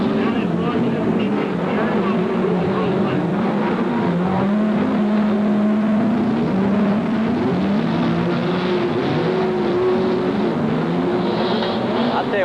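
Stadium trucks at a 1994 Mickey Thompson heat race roar continuously in the distance, engines droning and shifting pitch as they race, while an announcer commentates over the noise.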